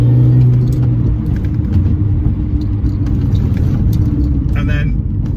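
R53 Mini Cooper S engine pulling hard in third gear along a narrow, twisty road, a loud, steady, rough drone with road rumble and a few clicks, and no speech.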